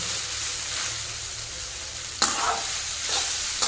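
Chowmein stir-frying in a home pan: a steady hiss of sizzling with scraping stirs, and a sharper toss or clatter partway through, close and fairly quiet.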